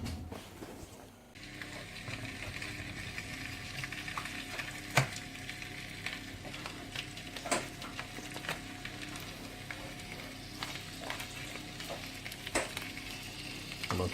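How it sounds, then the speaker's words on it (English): Sausages sizzle and crackle steadily in a frying pan as they brown, a quiet continuous frying hiss with occasional clicks of turning. "we'll keep turning these sausages until they look nice and brown"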